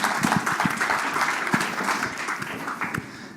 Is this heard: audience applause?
yes